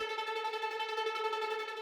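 Tremolo effect on a sustained synth tone in a melodic drum and bass track, a steady harmonic chord pulsing softly in volume throughout without drums or voices.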